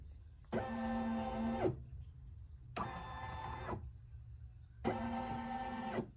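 A Babylock Flo embroidery machine runs a perimeter check over a towel topped with water-soluble stabilizer. It gives three separate whirring motor bursts with a buzzing, tonal hum, each about a second long, separated by short pauses.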